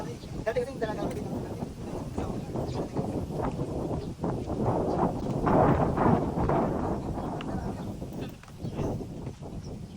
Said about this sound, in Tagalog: Grabe guys, sobrang lakas talaga ng hangin dito.